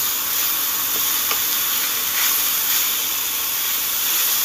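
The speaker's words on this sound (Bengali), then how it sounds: "গ্রেট করা উচ্ছেটাকে আমি দিয়ে দিচ্ছি পেঁয়াজ আর কাঁচা লঙ্কার সাথে সুন্দর করে নেড়ে নেড়েচেড়ে ভেজে নিতে হবে" Grated bitter gourd frying with onion and green chilli in hot oil, giving a steady, dense sizzle and hiss with a couple of faint stirring clicks, no voices.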